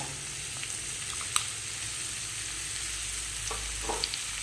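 Paneer cubes and vegetables fry gently in a pan with a continuous close sizzle, broken by a few light stirring taps and no speech.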